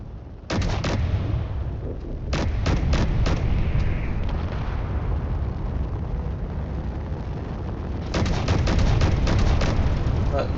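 Enemy turrets firing on a ship in a space video game: bursts of sharp rapid gunfire hits over a loud, constant rumbling roar, clustered at the start, in the middle and near the end.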